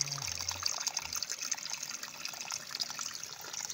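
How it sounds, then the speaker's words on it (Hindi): Water trickling out from under a stone in a jungle: a steady, close babble and dribble with light splashing, continuous throughout and alone. "वाह पानी पत्थर के नीचे से निकल आ रहा है देखो।"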